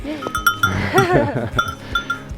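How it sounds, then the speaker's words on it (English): Farm goats bleat close by as they are herded up to a north field, several wavering calls overlapping amid shuffling, a faint bell-like clank and some background voices. "So we're here with the goats, taking them up to the north field"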